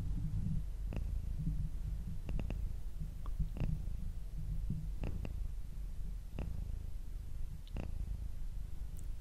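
A pet cat purring close to the microphone, a low, continuous rumbling throb with faint clicks and soft breathy sounds scattered through it.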